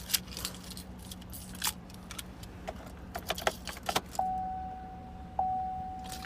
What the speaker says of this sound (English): Let me get the keys real quick.